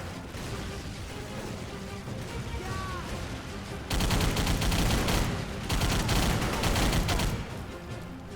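Rapid gunfire from a secondary weapon in a video game, loud continuous bursts that grow heavier partway through, with sustained dense firing rather than single shots.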